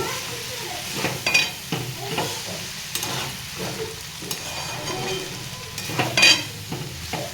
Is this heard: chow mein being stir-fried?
yes